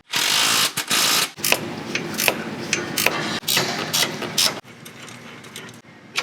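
Bursts of rapid ratchet clicking come from a wrench turning bolts on a Toyota Tacoma side step mount, with short pauses as the handle is flipped back and forth.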